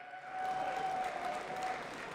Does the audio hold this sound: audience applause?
yes